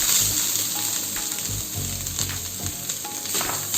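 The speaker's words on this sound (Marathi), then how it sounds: "आता गॅसवर आपण एक पॅन गरम करत ठेवलेला आहे त्याच्यात एक चमचा तूप घालून घेऊ आणि हा ओलं नारळ याच्यात" Grated fresh coconut sizzles and fries in ghee in a hot pan, a steady close crackle with soft stirring scrapes and no talking.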